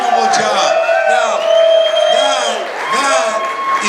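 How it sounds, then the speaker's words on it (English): A live audience cheers, whoops and shouts in a sustained, loud swell for Dan O'Neill at a speaking event, with voices rising and falling over about four seconds. "give a round of applause to my good friend Dan O'Neill"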